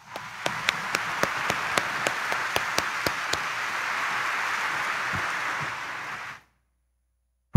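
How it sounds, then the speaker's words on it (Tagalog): Congregation at a Quiapo Church mass clapping loudly together for the Black Nazarene, a dense sustained roar of hands with a few sharp louder claps on top, cutting off abruptly into silence. "sino dito yung mga nagpapasalamat sa kanya, pumalakpak din ng malakas"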